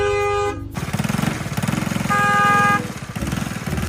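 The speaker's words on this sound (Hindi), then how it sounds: "अब देखना इस रिक्शे वाले को एक हारन दूंगा" A vehicle horn honks at a rickshaw on a busy street: a loud steady blare at the start, a rattling engine chug, then a second long honk, close and loud with traffic noise behind.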